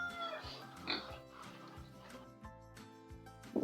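Pigs oinking and grunting repeatedly up close on a farm, a steady run of short rhythmic grunts with some noisy shuffling in between.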